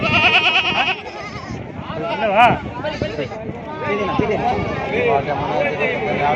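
Several goats bleat repeatedly, close by at a livestock market, their wavering cries overlapping with people talking nearby.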